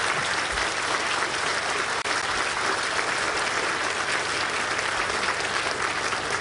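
A civic audience at a city budget presentation applauds, a dense, steady wash of clapping from many hands that holds evenly throughout, fairly close and loud, with no talk over it.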